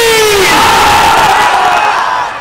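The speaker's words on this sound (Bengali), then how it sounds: "এজন্য আমরা একটা তাকবীর দিতে চাই" A large crowd at an outdoor Bangladeshi madrasa mahfil roars a loud collective takbir, many voices swelling together into one sustained shout that fades out at the end.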